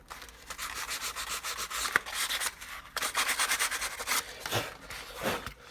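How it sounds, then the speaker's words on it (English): Buckskin leather on a knife sheath is sanded by hand with 320-grit sandpaper, close and quiet. Rapid back-and-forth scratchy rubbing strokes come in steady bursts with short pauses between them. "This is a piece of 320 grit, which is a little more suited to the task at hand here of getting some of these holes flattened back out."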